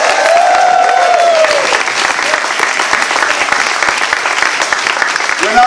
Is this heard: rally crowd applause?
yes